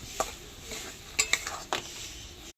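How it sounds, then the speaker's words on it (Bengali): A spoon stirs fish fry with chopped coriander in a pan, making a few soft metallic scrapes and clinks over a faint, quiet sizzle. "নাড়িয়ে চাড়িয়ে নেব"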